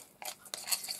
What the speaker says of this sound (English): just mix it up into a nice creamy consistency